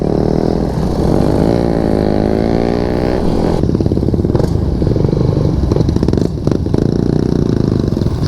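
Suzuki and other motorcycle engines at a group ride in Bohol run loudly throughout, a steady idle rumble with revving that rises and falls, plus some clattering, close by.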